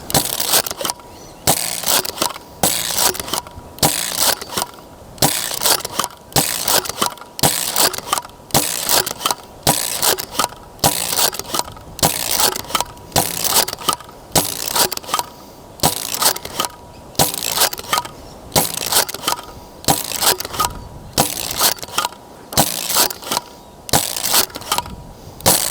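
A Nerf blaster dry fires over and over, with sharp mechanical bursts arriving about once a second in a steady, regular rhythm, close and fairly loud, with no voices.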